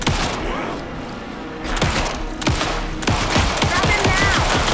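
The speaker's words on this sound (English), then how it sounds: "Anderson, pin him down with gunfire for me to get the light on him." Rapid machine-gun bursts ring out in the video game Alan Wake 2, close and loud, with rattling runs of shots and heavy thuds that grow denser toward the end, mixed with game voices.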